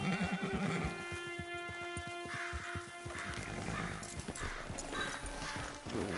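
Horse in Red Dead Redemption 2 with clear clip-clop hoofbeats on the ground, a whinny near the start, fairly close and moderately loud over a soft ambient background.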